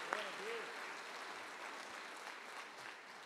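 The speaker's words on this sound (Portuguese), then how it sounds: "se é para aplaudir, aplaude bem forte, irmão" A church congregation applauds in one continuous, even wash of clapping that holds steady and fairly soft throughout, with a brief voice at the very start.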